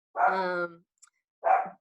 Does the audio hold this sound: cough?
no